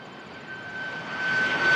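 A jet airliner bound for Doha runs its engines at Toronto airport, a broad roar with a thin whine that grows steadily louder as it approaches, no speech over it.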